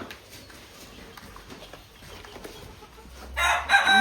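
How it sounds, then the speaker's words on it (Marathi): A rooster at a rural bullock-cart racing event crows near the end, loud and close, after a stretch of quieter background noise. "कोंबडा बघा"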